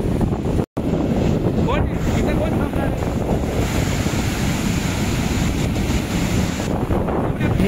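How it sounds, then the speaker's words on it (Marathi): Sea waves roll onto a sandy beach at Puri, a loud continuous surf rush mixed with heavy wind buffeting the microphone and a brief dropout near the start. "सो बघा मस्तपैकी लाटा येत आहेत"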